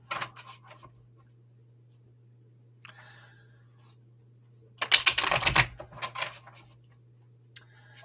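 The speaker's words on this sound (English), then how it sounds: "I'm shuffling for you at the moment." Quiet rustling and flicking of tarot cards being shuffled in short bursts, with one louder riffling shuffle in the middle, over a low steady hum.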